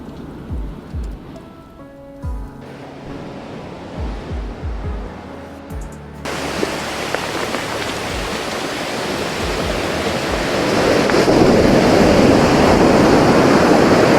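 Surf washes onto a beach below a coastal path by a headland, starting as quieter soft breaking waves with a few low thumps, then becoming a steady, louder broadband wash that swells further toward the end, with no voices.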